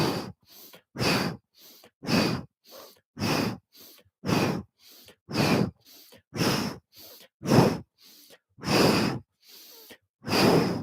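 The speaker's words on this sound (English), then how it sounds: "Inhale through left, exhale right." Alternate nostril breathing in a yoga practice: a steady series of about fifteen close, airy inhales and exhales through the nose, evenly paced with short pauses between them and no talking.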